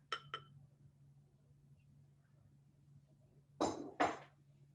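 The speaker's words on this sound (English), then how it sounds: "all I'm going to do now is pour it into my overnight glass jar." Glass clinks as a drink is poured into an overnight glass jar: two quick light clinks at the start, then quiet, then two louder rattling knocks of glass near the end, close by in a quiet room.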